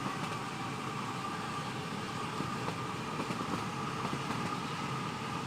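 A train rumbles along in the Train Sim video game, a steady, continuous rail roar with faint clicks and no clear passing swell.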